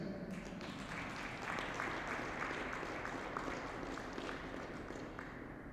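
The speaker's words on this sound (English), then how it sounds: "How about another round of applause for these fantastic champions?" Applause for the women's final champions at the 2023 BC curling championships, a steady crowd clapping throughout, somewhat distant and even in level.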